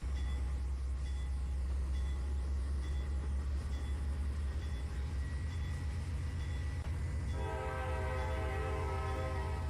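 Amtrak train departing in Trainz Simulator 3, a steady loud rumble of rolling stock with a sustained horn tone, and a brighter multi-tone horn blast swelling in near the end.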